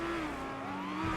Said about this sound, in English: The exhaust.